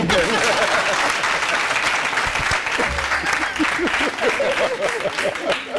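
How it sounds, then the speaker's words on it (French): A TV studio audience applauding on a game show set, sustained clapping throughout, with a presenter's voice talking over it. "on acclame pour elle s'il vous plaît"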